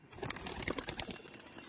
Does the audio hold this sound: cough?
no